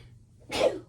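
A single sharp sneeze, sudden and close, preceded by a brief intake of breath in an otherwise quiet room.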